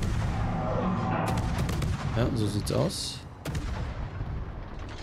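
Naval shell fire and explosions in the World of Warships video game: booming gunfire and rumbling blasts in quick succession, loud and dense, with someone talking over them.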